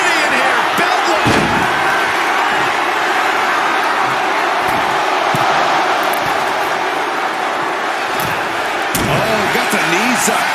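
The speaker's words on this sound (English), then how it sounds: "Look at this crowd. It's insanity in here." Roaring arena crowd in the wrestling game WWE 2K25, a loud steady wall of cheering beneath commentary, broken by sharp slams from the ring.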